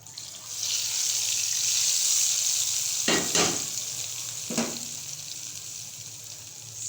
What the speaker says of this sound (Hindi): अब हम इसको तड़का लगाएंगे।